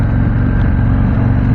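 Harley-Davidson Fat Boy motorcycle engine running in sport mode, a loud continuous low throbbing drone with wind noise over it, steady throughout and without talk.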